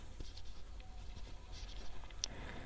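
Pen or marker writing during a Bengali class 9 math lecture on sets, a light scratching and tapping that runs through the whole stretch at low volume with one sharper tap near the end, and no talking.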